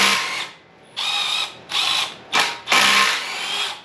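A power tool zips off oil pan bolts on a 2011 Chevrolet Colorado engine, four or five short whirring ratcheting bursts separated by brief pauses, loud and close.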